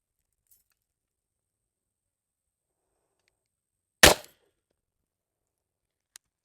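A single sharp gunshot from a MAC9 DS Comp pistol fitted with a compensator at a shooting range, one loud crack in near silence, followed by a faint distant tick.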